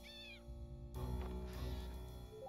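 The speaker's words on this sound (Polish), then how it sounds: "I kot się popłakał." A cat in the video game Impostor Factory cries out with a short, wavering meow, followed by a quiet wash of game music and effects.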